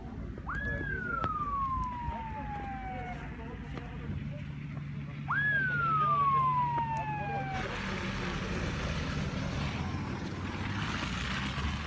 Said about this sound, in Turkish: geldi ambulans geldi